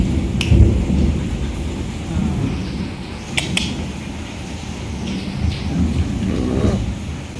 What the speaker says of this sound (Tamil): வெளில பயங்கர மழை பெய்யுது